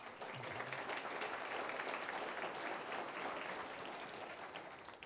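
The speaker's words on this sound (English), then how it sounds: "a big round of applause for him" A round of applause from an audience at a client economic outlook event honouring a top financial planner, steady crackling claps that are fairly faint and distant.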